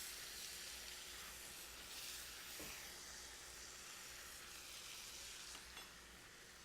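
Cut fresh vegetables hit a hot pan of browning shrimp, giving a steady, loud sizzle and hiss that runs throughout with no talking.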